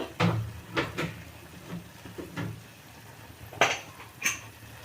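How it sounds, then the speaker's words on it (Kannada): The metal lid of a pressure cooker gets fitted and closed with a series of separate clanks and knocks, a few sharp metallic hits standing out against a quiet kitchen. "ಈಗ ಇದು ಮುಚ್ಚಳ ಮುಚ್ಚಿಬಿಡೋಣ"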